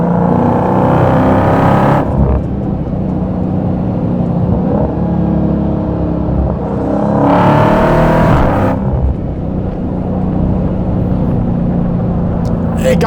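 A 2023 Dodge Challenger Hellcat Jailbreak accelerates hard with a loud, sustained engine roar that surges twice, near the microphone, with a voice talking over it.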